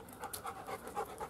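A dog pants close by in quick, rhythmic breathy huffs, several rapid breaths in a row with no talking.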